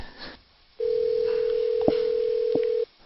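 A steady telephone dial tone hums for about two seconds with two brief keypad tones cutting in, then the line goes quiet; clear and close, with no talk.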